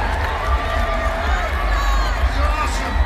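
A large outdoor festival crowd at a concert in Chicago roars and cheers continuously, a broad wash of voices with a scattered shout or two.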